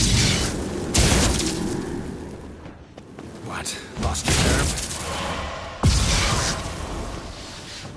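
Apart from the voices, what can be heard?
cannon fire in a video game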